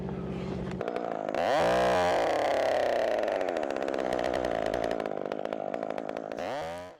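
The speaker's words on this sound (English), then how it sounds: "Sorry about the audio here with the chainsaw." A chainsaw cutting branches off an ash tree, its engine idling briefly then revving to a loud, sustained whine that holds for several seconds before dropping back toward idle.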